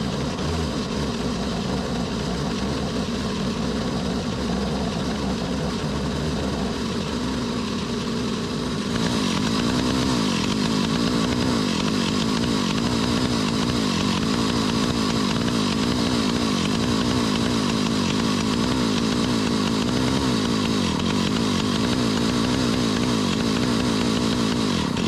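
An antique Stihl 028 Wood Boss chainsaw runs steadily near at hand, its two-stroke engine holding a loud, buzzing idle with a slight shift in tone partway through, no voices.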